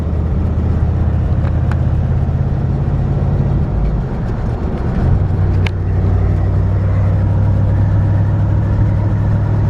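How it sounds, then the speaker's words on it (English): 1965 Chevrolet C10 pickup with a 350 V8 engine running while warming up, a steady close low idle that dips briefly, then settles into a slightly deeper, even drone. "It's got a 350 V8. She's still warming up."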